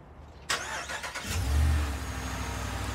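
A used car with a clean, undamaged exterior cranks with a few quick bursts and then catches, settling into a steady low idle that runs on, close up and alone.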